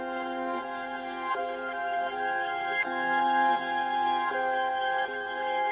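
Reversed synth melody from Analog Lab, pitched up an octave, slowed to halftime and textured with a Finisher Micro preset, loops in a smeared, hazy wash of backward notes, steady and unaccompanied at moderate volume.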